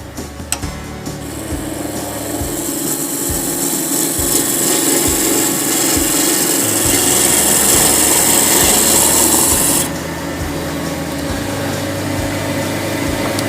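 Gouge cutting a fairly dry block of wood spinning on a lathe, a loud continuous rasping scrape with a steady motor hum underneath, easing slightly near the end.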